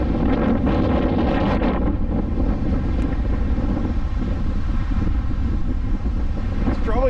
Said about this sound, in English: It's probably really windy